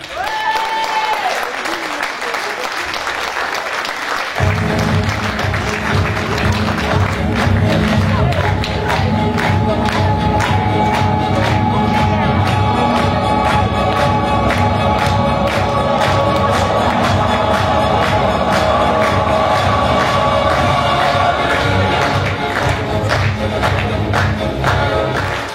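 A cabaret audience breaks into loud applause and cheering for a comedy duo, a brief voice giving way to dense, sustained clapping with whoops and shouts that stays strong throughout.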